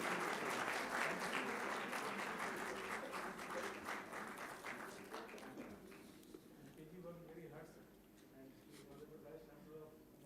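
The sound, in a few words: audience applause at a university convocation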